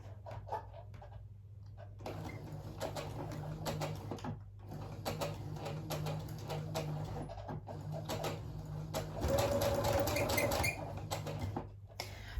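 A sewing machine runs back stitches on elastic: a continuous mechanical whirr with brief pauses and restarts, close and moderately loud, with no talking.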